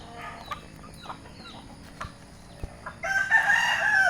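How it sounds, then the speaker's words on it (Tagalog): A gamefowl rooster crows loudly and close by, starting about three seconds in. Before that, scattered faint clucks and farmyard noises sound from chickens kept in a backyard breeding yard. "Napakaganda ang manok niyan."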